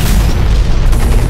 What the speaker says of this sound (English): got him with that rocket